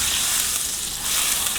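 Butter sizzles steadily in a hot frying pan while cooking a creamy chicken and mushroom pasta, a loud, continuous crackling hiss heard close up with no talking.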